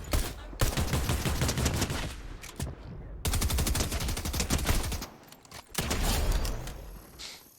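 Rapid gunfire from Fortnite weapons, loud and sustained bursts of automatic shots with brief pauses between volleys, no talking over it.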